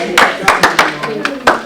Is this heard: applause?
yes